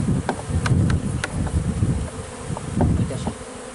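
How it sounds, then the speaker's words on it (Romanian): Honeybees swarm around an opened hive during spring colony work, a dense droning buzz close to the ear with individual bees whizzing past in brief louder passes over a soft rustling background. "Avem aici niște albine care trebuie să o dăm"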